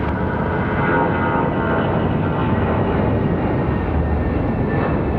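An airliner takes off from a runway at Raleigh-Durham International Airport, heard as a steady, loud broadband engine roar that holds even throughout, with no voices.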